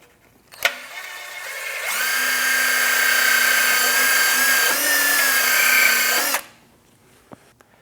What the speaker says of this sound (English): For this task, I'll be using a bore brush and a drill.